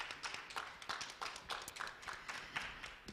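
Audience applause for guests at an International Women's Day special event, a thin, fairly quiet patter of scattered claps with a few sharper individual hits, steady across the short stretch without voices.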